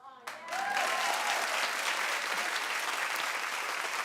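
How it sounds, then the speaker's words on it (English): Studio audience at a television talk show breaking into loud, sustained applause that starts abruptly and holds steady at full volume, a dense wash of clapping from a large crowd. "All right, clap a little louder."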